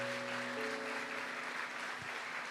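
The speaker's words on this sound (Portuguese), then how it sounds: "Pode aplaudir ao Senhor Jesus?" A church congregation applauds during a family worship service, faint and steady clapping with a held organ-like tone underneath that fades out.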